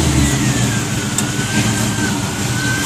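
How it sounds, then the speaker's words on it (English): An LS V8 in a B-body car revs through a Flowmaster 40 series exhaust, a loud, close, continuous throaty rumble that stays heavy and steady across the short burst, with no talking. "Flowmaster 40 series. Have my boy Eric start his up."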